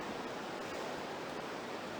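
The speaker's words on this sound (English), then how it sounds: "You can see the waterfall going." Distant waterfall in the Aareschlucht gorge, a steady broadband rushing hiss with no breaks, moderately faint and continuous throughout.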